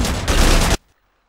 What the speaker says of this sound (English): It's a very rapid-firing mortar.